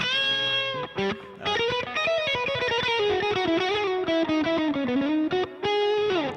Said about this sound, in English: I'm on a JCM 800 type deal with a little bit of reverb on there